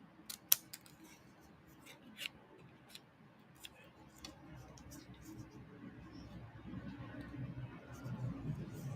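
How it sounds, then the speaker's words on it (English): Left-handed scissors snip paper in a few faint, sharp clicks spaced seconds apart, with a low murmur of voices in the background that grows louder toward the end. "I'm going to cut each individual one of these"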